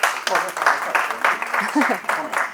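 An audience claps in steady applause lasting a few seconds, with voices talking over it.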